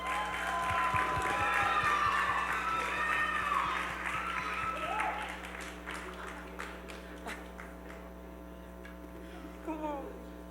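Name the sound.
audience applause at a concert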